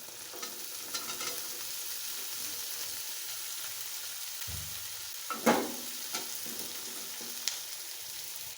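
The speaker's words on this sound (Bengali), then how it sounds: "এখন বেজে নেব কিছুক্ষণ।" Malabar spinach fruit sizzles in a pan with five or six green chillies and onion stalks, giving a soft, steady frying hiss broken by a few stirring scrapes and clinks.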